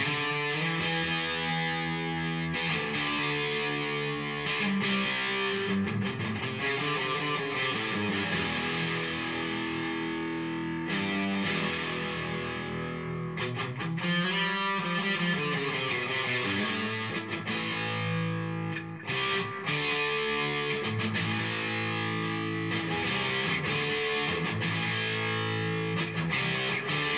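Heavily distorted electric guitar plays continuously through a TC Electronic Echobrain delay pedal, echoing delay trailing the notes, loud and sustained, with no talking.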